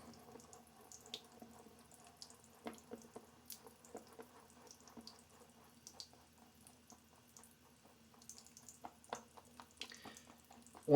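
Tap water trickles and drips while water is added to shaving soap, a faint, irregular splashing with small clicks and bubbly spatters, close by and quiet.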